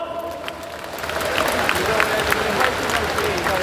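A large audience claps through a long steady stretch of applause at the Democratic Party of Korea leader election event. The clapping fills the room and gets slightly louder as it goes on, with a voice speaking over it.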